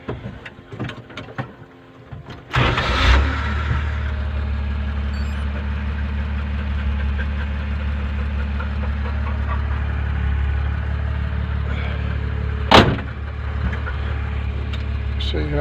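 A Dodge Power Wagon engine cranks and catches, then settles into a steady, low, slightly knocking idle close by, with a brief sharp clatter partway through.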